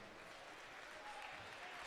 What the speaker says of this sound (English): Chara getting a deserved round of applause.